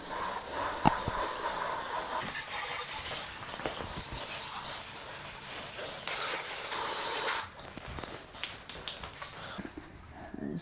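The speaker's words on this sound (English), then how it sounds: "I'm just lightly spraying over that. I ain't spraying real hard pressure." A steady hiss of water spraying at low pressure over a push lawn mower, continuous and fairly close, with a few small clicks and knocks along the way.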